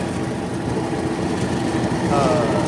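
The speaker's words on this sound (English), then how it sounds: "It's a John Deere. It's a 3032E" A John Deere 3032E four-wheel-drive diesel compact tractor idles with a steady, even rumble close up, the engine note continuous throughout with a brief higher whine near the end.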